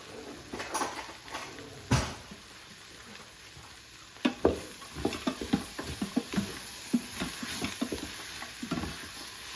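Green garbanzo beans frying in a pot are stirred with a spoon, giving soft scraping and clacking strokes over a low sizzle, with irregular taps and shuffles becoming busier midway.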